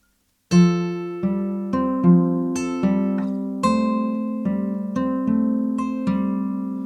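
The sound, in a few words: fingerpicked guitar chords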